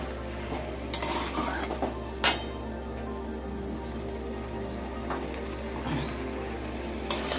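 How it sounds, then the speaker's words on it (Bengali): Ground poppy seed and mustard paste is stir-fried in a pan, quiet frying under occasional sharp scrapes and clinks of a spatula against the metal, spaced several seconds apart. "এবার আমি বন্ধুরা পোস্তর সঙ্গে এটা ভাজা ভাজা করে নেব।"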